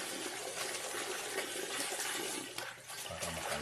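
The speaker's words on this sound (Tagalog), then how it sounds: "Hugasan natin itong ating bulaklak" Katuray flowers are washed under running tap water, a steady, full gush that pours without a break and shifts slightly near the end. No one speaks.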